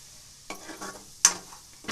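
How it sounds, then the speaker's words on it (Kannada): Semolina frying in ghee for kesari bath, stirred in a pan with a couple of sharp scraping strokes over a soft background sizzle, close and fairly quiet. "ಇದು ಸ್ವಲ್ಪ ಚೆನ್ನಾಗಿ ಫ್ರೈ ಮಾಡಬೇಕು ರವೆ ತುಪ್ಪದಲ್ಲಿ ಹಾಕಿರೋದು"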